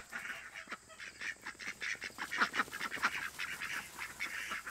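Guard geese honking repeatedly on a free-range duck and goose farm, with a busy, overlapping run of loud calls that keeps going throughout.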